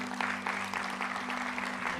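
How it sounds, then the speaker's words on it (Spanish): Steady church congregation applause with dense clapping at a moderate distance, sustained throughout with a low hum underneath. "Damos un aplauso al Señor por ello."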